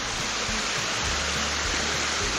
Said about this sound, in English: Strictly speaking, another waterfall.